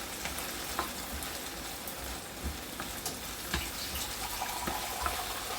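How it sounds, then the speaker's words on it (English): Salmon with stir-fried vegetables frying in a pan gives a steady close sizzle and crackle, with faint stirring clinks and a hint of pouring water in the background. No voices. "You can see the salmon is starting to cook away nicely too."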